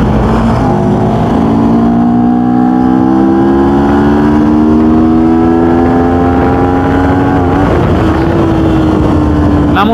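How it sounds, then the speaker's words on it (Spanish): A motorcycle engine revs hard and close while accelerating uphill in third gear, its pitch climbing steadily under load, with a brief dip near the end like a gear change. "Vamos a ver cuánto suelta la moto subiendo en tercera."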